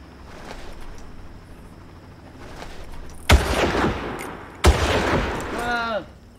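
Gunfire in the Far Cry video game: two sharp, loud shots about a second apart, each followed by a sustained noisy tail, with game sounds underneath.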